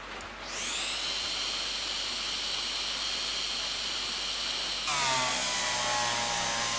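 In the train game Derail Valley, a power drill bores into a locomotive with a steady, high whine that spins up quickly and holds. Partway through, the drill's pitch drops and its tone gets grittier. No one speaks.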